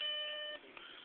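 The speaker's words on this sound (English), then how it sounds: "beep from hell" A Mini vMac emulator sounds its startup beep, a clean steady electronic tone lasting about half a second, followed by faint room noise and a small click.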